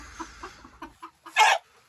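A rooster clucks close by in a quick series of short, soft notes, then lets out one louder, drawn-out squawk before falling quiet.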